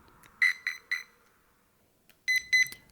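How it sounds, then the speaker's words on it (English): Hobbywing ESC power-on beeps: three short, bright electronic tones, a pause, then a further pair of beeps, each clean and close with no talk. "And if the ESC beeps 3 times, then we have a 3S LiPo."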